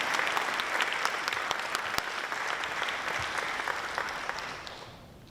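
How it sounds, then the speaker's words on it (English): An audience applauds at the closing session of a city conference: dense, moderately loud clapping from a large crowd, steady for several seconds before fading toward the end. "I'd like to ask the participating cities and organizations that have affirmed the Yokohama Declaration 2024 to give a big round of applause again"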